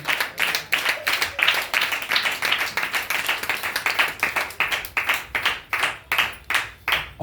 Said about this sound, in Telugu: చప్పట్లు కొట్టి ప్రభు నామమున కనపడదాం